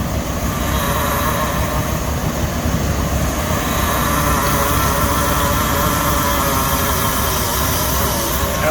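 A car's engine running loud and steady at close range while its power steering is turned slowly left and right, giving a continuous broadband drone with a faint whine.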